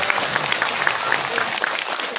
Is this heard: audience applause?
yes